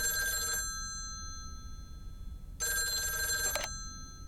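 An old-style telephone bell ringing in the video game Lake, two bursts of bright metallic trilling rings separated by a pause, moderately loud and clear with no talk.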